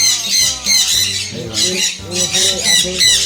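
A pet bird in an aviary lets out loud, harsh, repeated squawks close to the microphone, in bursts of about half a second with short pauses between them.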